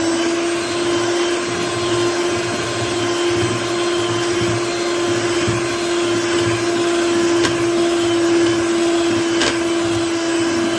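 An electric hand mixer beats cake batter on its lowest speed, a steady, close motor whine holding level throughout with no talking.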